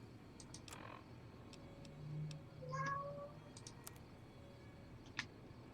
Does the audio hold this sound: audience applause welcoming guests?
no